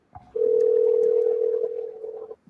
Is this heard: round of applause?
no